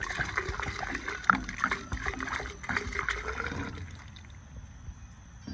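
Water drains from a 4-gallon bottle into soil as part of a deep-root watering setup for a raised bed, giving a steady close trickling gurgle that softens and thins out toward the end.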